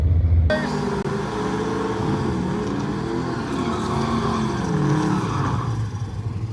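Loud, continuous roar of manual-transmission drag racing car engines revving, dense and close, with engine pitch shifting throughout after a brief quieter start.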